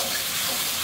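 Onion, ginger and garlic paste frying in hot oil, a short, steady close-up sizzle with no voices.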